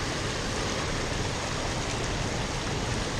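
Small brook flowing steadily, a dense continuous wash of running water filling the scene without pause, close and fairly loud, with no voices.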